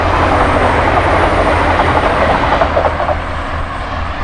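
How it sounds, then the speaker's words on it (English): A train rushes past at close range on a walk near York, a loud continuous roar of wheels and carriages with faint rhythmic clatter, steady throughout and easing slightly toward the end. "Train!"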